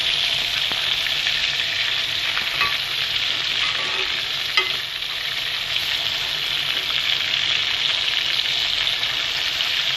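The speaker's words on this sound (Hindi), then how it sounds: "ये कबाब जो है ये हमारे अच्छे खासे फ्राई हो गए" Chicken kebabs for a karahi dish fry in a hot pan, giving a steady, dense sizzle that runs the whole time, with a few faint clicks as pieces are turned and no talking.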